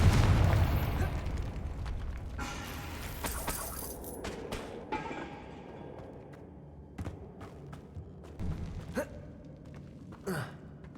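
A Confringo blast spell in Hogwarts Legacy explodes with a loud, deep burst right at the start, then fades into scattered faint crackles and small pops.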